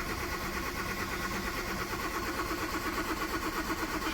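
An old car with 75,000 miles, being loaded for recycling, cranks steadily on its starter without catching, a continuous churning whir lasting several seconds with no voices.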